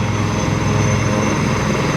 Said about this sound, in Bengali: ওদিকে আরও একটা হেলিকপ্টার এসেছে